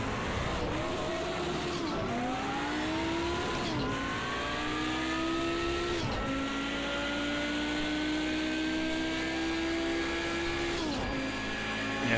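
A race car in Project CARS 2 brakes late into a hairpin: the engine drone drops and climbs again through repeated gear changes, loud and continuous with no talking.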